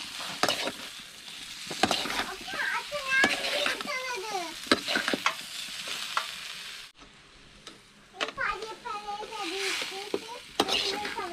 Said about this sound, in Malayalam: നല്ല രീതിയിൽ ഇളക്കി കൊടുക്കാം കേട്ടോ.